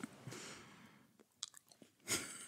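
Someone chews a Twix chocolate bar close to the mic, with a few crisp bites and soft crunching and mouth sounds that end in a louder crunch.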